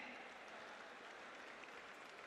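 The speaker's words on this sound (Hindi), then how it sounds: "जोरदार तालियां बजाते रहें इन सब के सम्मान में" An audience at a ceremony honouring Delhi municipal workers claps steadily, the applause a continuous, even patter heard from a distance.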